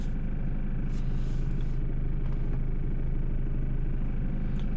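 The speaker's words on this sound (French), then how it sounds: "Là, il y a un véhicule, je le laisse passer." A car passing through a road junction, a steady low engine rumble and tyre roar that stays close and even throughout, with no talking.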